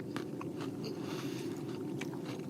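Quiet crisp crunching of cheese crackers being chewed, a few sharp crackly bites over a low steady background.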